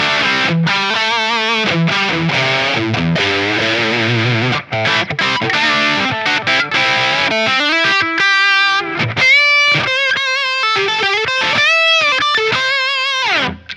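Heavily distorted electric guitar on the bridge pickup through a Line 6 Helix Cali Rectifire, a Mesa/Boogie Dual Rectifier model, playing dense chugging riffs and then ringing sustained notes and short lead phrases, loud with no talking.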